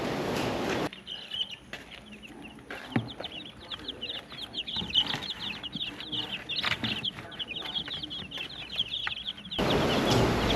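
Baby chicks in a brooder peep constantly in a rapid, high chorus of many overlapping cheeps, moderately close, with louder rustling noise at the start and end.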